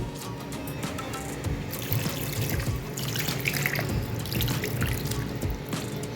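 Water pours steadily into a cooking pot holding marinated pulasa (hilsa) fish pieces for a pulusu curry, a continuous close splashing and trickling with no voices over it.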